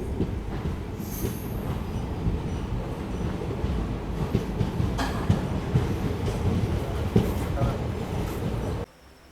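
Train running on the Peralam line toward Peralam Junction in Tamil Nadu, a steady loud rumble of wheels on rail with occasional squeals and clatter, continuing almost to the end before dropping away, with voices faintly under it.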